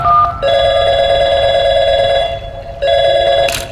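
A telephone rings in the video game Portal 2 with bright electronic tones, one long burst, a short pause, then a second burst, loud and clear with no talking.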